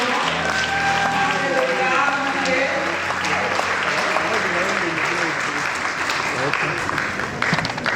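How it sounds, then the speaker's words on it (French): An audience at a women's platform event applauds its president with sustained, dense clapping, loud and continuous, mixed with crowd voices and some tonal sound early on. "je voudrais vraiment qu'on applaudisse la visionnaire, la présidente"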